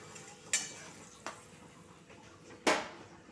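A few sharp metallic clinks and knocks of a pot lid settling onto a pan of potato curry with added water, three distinct hits against a quiet, faint background hiss.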